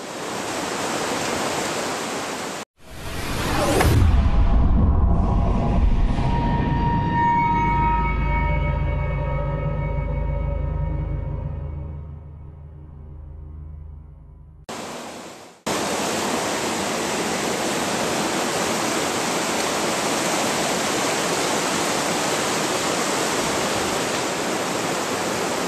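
A river running high roars as a dense, steady wash of rushing water close by, broken by a few seconds of a different, rumbling passage before the full even flow returns and carries on to the end.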